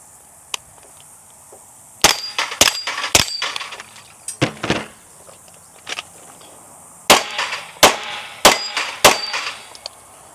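Suppressed Micro 3 Plus pistol fired on a range: sharp, close cracks in irregular clusters, more than three reports with ringing clinks between them and quiet gaps in between.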